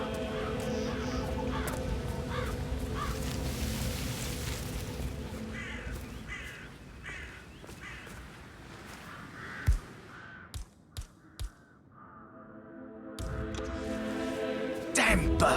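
Crows caw in the Hitman 3 mission "Death in the Family", their calls mixed into game ambience and music, with a few sharp clicks and thumps partway through before the background swells again.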